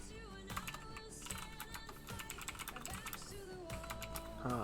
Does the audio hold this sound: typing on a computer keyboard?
yes